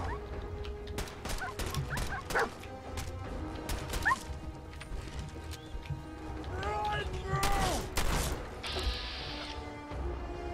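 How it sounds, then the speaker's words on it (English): A dog barks in Fallout 4 amid clattering game sounds and mechanical clanks, with a few sharp barks and yips scattered across the scene while someone talks over them. "Don't shoot my goddamn dog."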